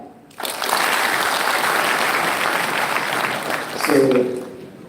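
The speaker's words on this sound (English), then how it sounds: "If you agree to it, one clap." An audience on a campus during a live chess event breaks into a burst of applause lasting several seconds, then fades as a voice begins speaking.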